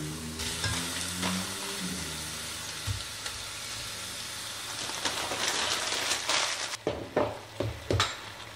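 Pieces of beef for carbonade flamande sizzling and searing in a hot pan, a steady crackling hiss with a few louder pops and stirring clatters toward the end.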